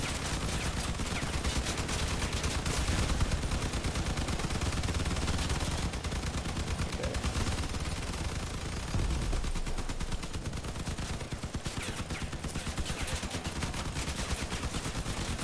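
Rapid machine gun fire from an armed cab in a video game, a dense, continuous barrage that stays loud and close throughout with no pauses.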